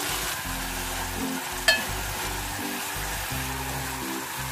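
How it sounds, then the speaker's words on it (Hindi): Tomatoes dropped into onions frying in a pan, giving a steady sizzle with a brief sharp clink of a spoon near the middle, no talking. "साथ ही इसमें ऐड करेंगे हम टमाटर।"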